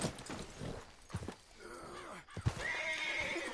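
Horse in Red Dead Redemption 2 whinnies and neighs loudly in a drawn-out, wavering call, with hoof clops and game ambience around it and no talk.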